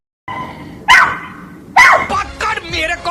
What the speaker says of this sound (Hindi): कुत्ते मियाँ की आवाजें अब पूरी गली में गूंजती है।